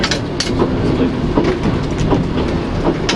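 A train rumbles and rattles steadily along rusty track, loud and close throughout, with rhythmic clicking of wheels over rail joints.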